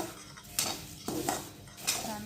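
Stirring and tossing puffed rice and poha chivda in a pan, with scraping spoon-on-metal strokes and light rustling, close and moderately quiet with no talk.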